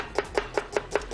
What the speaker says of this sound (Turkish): Şefim doğramaya başladı.